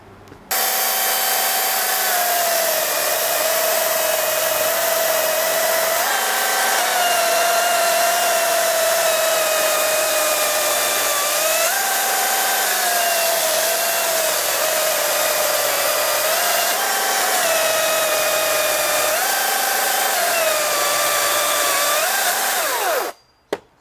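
A new Makita UC025G 40V cordless chainsaw, running on a freshly charged 5Ah battery, whines steadily at high speed for about twenty seconds, its pitch dipping slightly several times as it cuts through wood, then stops abruptly; close and loud, no speech.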